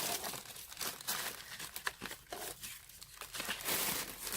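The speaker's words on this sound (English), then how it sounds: "Don't crumple up my paper and my things" A dog crumples and crinkles paper from a mail package, a busy, continuous rustling close by with sharper crackles scattered throughout and no talk.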